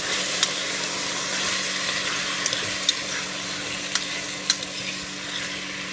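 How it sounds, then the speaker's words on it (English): Vegetables sauté in a soup pot for chicken and poblano pepper soup, a steady close sizzle throughout with a few sharp clicks of a utensil scraping and stirring against the pot. "then stir it around some."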